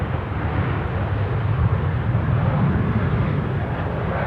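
Aircraft noise at Amsterdam Schiphol Airport, a steady broad low roar that holds at constant loudness throughout, with no talk over it.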